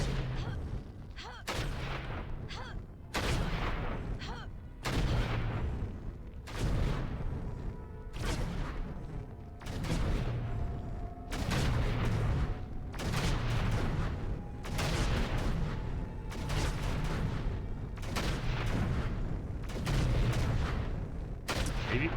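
Explosions from the video game Baldur's Gate: Dark Alliance boom repeatedly, about a dozen loud blasts in a fairly steady rhythm, each with a sharp crack and rumbling tail, with game sounds between them.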